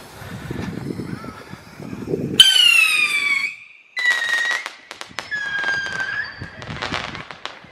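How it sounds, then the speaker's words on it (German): A Funke caliber B whistling firework rocket shrieks with a rising whistle after a rustling start, followed by crackling and further whistling tones fading out. "Pfeifrakete Kaliber B."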